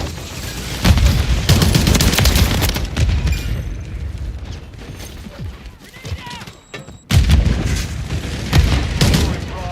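Video game firefight with a Semtex grenade detonating amid heavy gunfire: loud booms and rattling shots fill the scene, a brief lull, then another sharp blast and renewed firing, with radio-style announcer voice lines mixed in.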